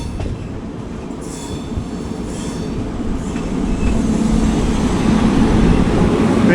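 A Garib Rath Express train hauled by twin Ajni WAG locomotives, heard from on board as a loud, steady rumble of wheels on rails with faint rhythmic clatter, swelling slightly toward the end.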